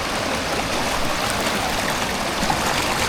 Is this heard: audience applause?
no